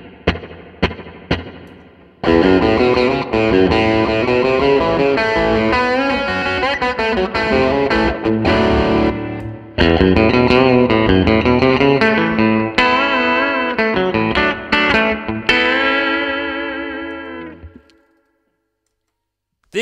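Electric guitar through a Line 6 M13 pedal set to analog delay with modulation and a '63-style spring reverb: a few plucked notes, then sustained wavering chords with echo trails, ending in a fading tail and silence.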